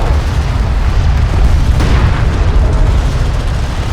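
Destroyed strike craft exploding in Homeworld: Deserts of Kharak, a loud, dense rumbling boom that swells slightly midway and sustains throughout without pause, with no talk over it.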